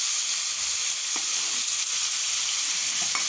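Onions and chopped tomato fry in a pan with a continuous close crackling sizzle, a couple of faint clicks of a utensil breaking through now and then, and no talking.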